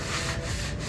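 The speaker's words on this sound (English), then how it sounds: "I used the 80 grit sand block to start sanding all the surfaces" Steady, continuous scratchy rubbing of an 80-grit sanding block worked back and forth over a wooden door, close and fairly loud with no pauses.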